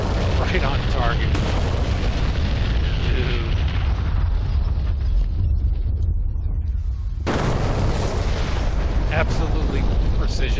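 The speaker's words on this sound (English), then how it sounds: "Watch our bombs hit right on target." JDAM bombs dropped from an F-16C in the DCS flight simulator detonate on target, heavy booming explosions with a rumbling roar that dips and then erupts again in a sharp loud blast, under talk.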